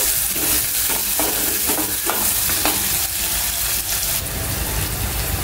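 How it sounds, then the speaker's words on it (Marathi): Chopped onion fries with curry leaves in a pan, a loud, continuous close sizzle with occasional stirring scrapes and no talking. "कढीपत्ता परतला की आपल्याला कांदा घालायचा आणि कांदा जो आहे तो आपल्याला शिजून द्यायचा आहे चांगला"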